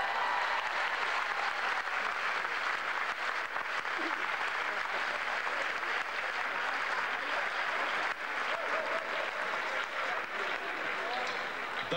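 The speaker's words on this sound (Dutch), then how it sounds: "Een applaus voor Yvonne Verbeek." Sustained, dense applause from a large theatre audience at an artists' gala, a loud continuous wash of clapping that holds steady for the whole stretch with a brief dip near the end.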